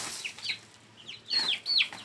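Chickens cluck in a loft, a handful of short, close clucks and squawks, a few scattered and a louder pair at the end, with no one talking.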